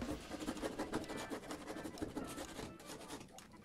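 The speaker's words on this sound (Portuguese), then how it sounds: "Raspar o resquício de cola." Vonder RP 011 flat scraper rasping at glue residue, a steady run of quick repeated scratching strokes close up, moderately faint, with no voices.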